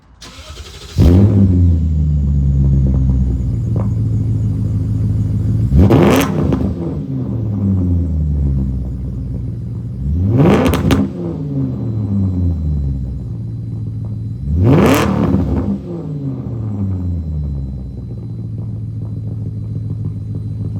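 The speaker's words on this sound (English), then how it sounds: "you guys saw how the pops and crackles are still there" A straight-piped BMW E39 540i V8 idles with a deep, loping rumble and is blipped four times, each rev rising sharply and then falling back with pops and crackles.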